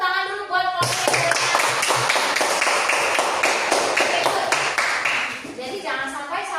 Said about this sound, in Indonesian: Coba tepuk tangan dulu buat kelompok yang